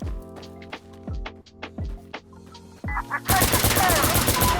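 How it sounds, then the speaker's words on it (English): Semi-automatic M16 rifle shots in a video game: several sharp, evenly spaced single shots, loud and close, followed by a burst of dense, noisy gunfire and clatter. "Nice semi-auto little fire there."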